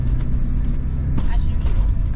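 A steady, loud rumble from a car on the road, with road and engine noise from inside the vehicle and a voice talking over it.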